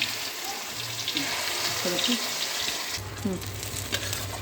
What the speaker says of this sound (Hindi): अब इसमें टुकड़ा उठा कर फ्राई करने के लिए डालें